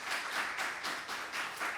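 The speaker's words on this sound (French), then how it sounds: "Merci sous vos applaudissements" A short, steady burst of audience applause at a career seminar, with dense clapping that swells in soft rhythmic waves.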